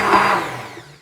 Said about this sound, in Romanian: acum o să le fac cu un blender foarte fine